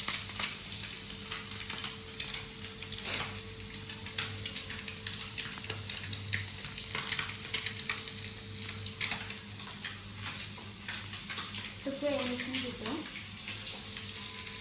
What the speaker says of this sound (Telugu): ఇది కొంచెం మంచిగా డీప్ ఫ్రై అయ్యే వరకు మంచిగా ఫ్రై చేయాలి